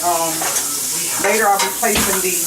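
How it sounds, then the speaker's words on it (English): Steady sizzling of onions frying in olive oil, close and continuous, with a few stirring scrapes breaking through. "I'm just frying it all together like so"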